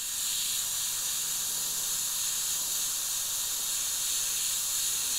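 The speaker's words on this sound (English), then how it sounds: "So now dusting over the white that I've just done with yellow." Airbrush spraying transparent yellow paint thinned with reducer, a steady close airy hiss that continues unbroken and alone throughout.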